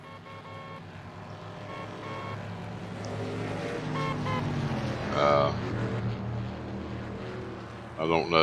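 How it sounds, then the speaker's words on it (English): A car horn toots at an oval race track during an afternoon race, a brief higher burst rising over steady engine roar and a commentator talking throughout. "I don't know who has put a horn button on their car, but they have."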